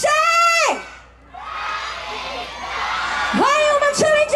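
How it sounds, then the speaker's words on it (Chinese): A concert crowd at a seaside music festival cheers, shouts and applauds loudly as a singer is introduced, with an amplified host's voice at the start and end. "让我们用最大最大的声音，掌声欢迎到我们谁"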